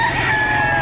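A rooster, about nine months old, crows loudly and close by in a short, strained burst at a gamefowl market in Lipa, Batangas.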